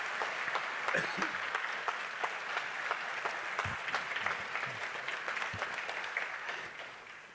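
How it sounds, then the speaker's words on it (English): An audience at the American Legion Keystone Boys State gathering applauds the named citizens, steady sustained clapping from a large crowd that eases off slightly near the end. "Could we have an applause for all these great citizens?"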